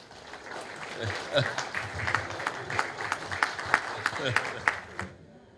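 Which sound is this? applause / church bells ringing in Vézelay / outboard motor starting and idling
applause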